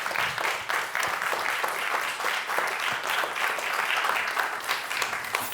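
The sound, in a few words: audience applause for the speakers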